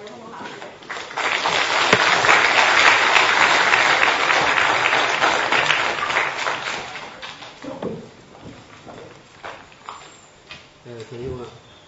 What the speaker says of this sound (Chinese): 请热烈掌声有请我们刘鸿鹏老师。